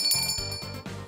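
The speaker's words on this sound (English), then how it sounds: "The bell made them go away." A bell rings in the Deltarune video game, with bright tinkling tones repeating about four times over a low pulsing game backdrop.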